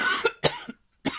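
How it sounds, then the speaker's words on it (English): A few sharp coughs in a short fit, close and fairly loud, separated by brief silent gaps, with no talking. "while you get over this coughing fit"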